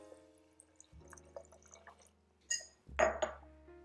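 One cup of water is poured into a blender holding raisins, cashews and apple cider vinegar, making a faint trickle with drips and glassy clinks, followed by a louder splashing pour near the end.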